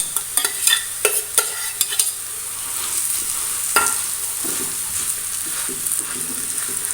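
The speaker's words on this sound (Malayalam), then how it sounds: "ഉരുളക്കിഴങ്ങ് നല്ലോണം ഉടയണം" Boiled salted potatoes are mashed for filled poori, with a run of quick close taps and scrapes against a vessel, then a steadier soft squishing and scraping with occasional knocks.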